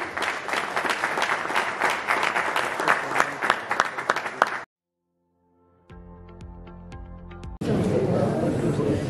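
Audience applause at a Markhor Super League season 2 shirt launch ceremony for Gizar United, a dense burst of clapping lasting several seconds before dropping to silence, then a brief tonal jingle and a fresh surge of clapping and crowd noise.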